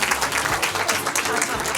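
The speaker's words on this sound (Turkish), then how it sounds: "Alkışlayalım aslanları da." A quiz night audience claps in a dense, steady round of applause, close and continuous throughout, with a voice faintly under the clapping.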